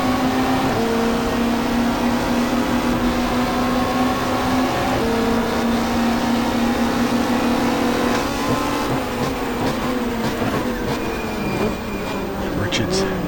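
1995 Australian Super Touring race car at Mallala pulling away in first gear onto the back straight, engine loud and close from the cockpit, revs rising and stepping up through gear changes, with a voice talking over it.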